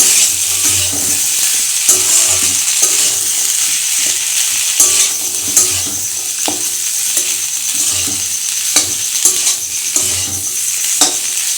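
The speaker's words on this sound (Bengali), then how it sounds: "গ্যাস ওভেনটা মিডিয়াম টু লোয়েতে দিয়ে একটু কষিয়ে নিচ্ছি ভালো করে" Green peas ghugni masala sizzles steadily in a pan over medium-low gas, with frequent scraping and clinking of a spatula as it is stirred and fried, a constant bright hiss throughout.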